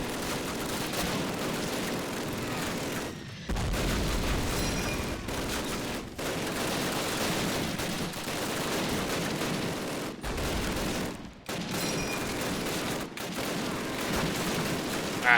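Heavy gunfire in the video game Call of Duty, rapid machine-gun bursts and rifle shots in a near-continuous barrage with a few brief gaps, loud and dense throughout.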